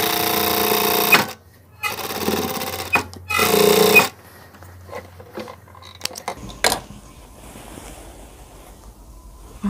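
A sewing machine stitching a cushion cover for an L-shaped corner seat, running in three close, loud bursts of rapid whirring, then stopping to scattered handling clicks and rustles.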